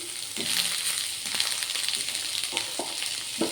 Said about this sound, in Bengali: যেটুকু ঘি লেগে আছে আমি ওর মধ্যেই পেঁয়াজ আদা টাদাগুলো একটু হালকা নাড়াচাড়া করে নেব